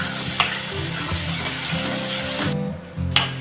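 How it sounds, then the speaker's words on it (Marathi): Ground spice paste for a drumstick dish sizzles in hot oil in a pan, a steady close frying hiss broken by the scrape and clink of stirring, with no voice. "इथे आपण हे वाटण एक दोन मिनटं असं छान असं परतून घेतलंय"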